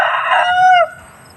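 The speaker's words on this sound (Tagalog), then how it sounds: "Ang ingay ng manok." A chicken gives a single loud, close crow of about a second on a farm, a drawn-out call that breaks off abruptly.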